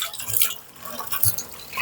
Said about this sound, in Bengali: প্রথমেই আমি করলাটা একেবারে কচলে কচলে ধুয়ে নেব